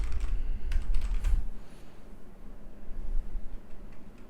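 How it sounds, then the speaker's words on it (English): Typing on a computer keyboard to search for a plugin, a quick run of close key clicks at first, then sparser, softer taps over a faint room hum. "Then you can start typing the plugin name that you're searching for"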